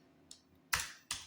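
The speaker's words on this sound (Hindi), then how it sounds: "कंट्रोल के साथ एंटर एंटर एंटर" Three distinct keyboard key presses, Ctrl with Enter, on a computer, crisp and close: one faint tap followed by two louder clicks in quick succession, with no talking.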